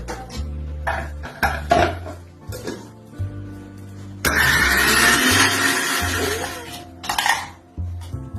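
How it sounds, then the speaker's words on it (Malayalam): A kitchen mixer grinder blends sautéed tomato, onion, green chilli and ginger into chutney. After several short clinks and knocks, it gives one loud, rough whir lasting about three seconds, then stops. "നമുക്ക് മിക്സിയിലിട്ടൊന്ന് അരച്ചെടുക്കണം"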